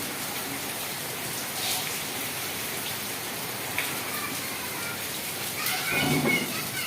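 Heavy rain pours down in a dense, continuous hiss. It swells slightly toward the end, and a few sharper splashes stand out from the steady downpour.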